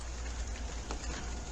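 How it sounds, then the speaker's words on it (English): Steady rain showers falling outdoors near a house by the Withlacoochee River, a constant broadband hiss with scattered droplet patter, moderately soft and without talk. "now it came up again a little bit of showers"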